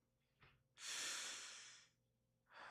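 A person takes a long, deep breath during a guided breathing exercise: a short sniff, then one loud, close, breathy inhale lasting about a second, followed by the start of another breath, with no talking.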